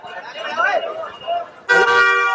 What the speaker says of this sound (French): un scooter qui a un klaxon de voiture